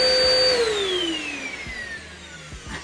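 A dust extractor runs with its suction on, its whine dropping steadily in pitch as it spins down, loud at first and then settling into a softer hum with a few light knocks near the end.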